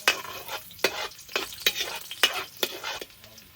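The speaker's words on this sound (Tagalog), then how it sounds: "Halo-haluin." Onions sauté in a frying pan while a utensil stirs them, a steady sizzle broken by about six sharp scraping strokes in an even rhythm, close and alone without speech.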